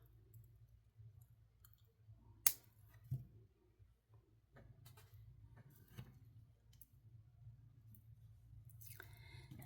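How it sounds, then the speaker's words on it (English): Wire cutters snipping beading wire on a dollar bead box necklace, one sharp distinct snip standing out from a quiet room, then faint handling clicks and rustles. "And then snip this part off."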